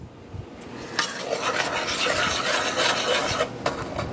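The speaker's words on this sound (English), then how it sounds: "I'm just going to stir that up a minute" Sugar and whole milk for pumpkin spice fudge are stirred in a pot, a steady close scraping and swishing with a few knocks of the utensil against the pot.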